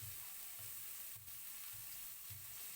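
Onions and mixed vegetables sizzle steadily in a frying pan, with a soft, regular stirring scrape repeating roughly every half second beneath the constant hiss, no talking.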